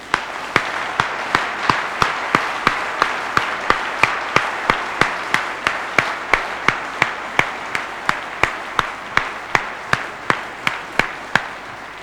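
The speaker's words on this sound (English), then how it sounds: "he deserves an applause." An audience claps in unison for Justice Antonin Scalia after a talk, sharp synchronized claps on a steady beat of roughly two per second, continuing evenly for about twelve seconds.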